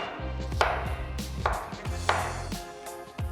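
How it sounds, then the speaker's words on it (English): Knife chopping peeled apples into pieces on a board, a steady series of close, crisp thuds roughly every second or so, with no talking. "Peel off the skin, chop them into pieces and transfer them to a bowl."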